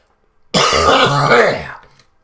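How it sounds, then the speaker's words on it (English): A single harsh, dry heave from a livestream host, a rough cough-like throat sound of about one and a half seconds, loud and close to the microphone. "in case anyone's wondering about the cough, it's not so much a cough. It's more like a dry heave"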